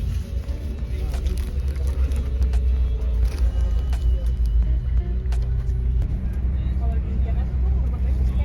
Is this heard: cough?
no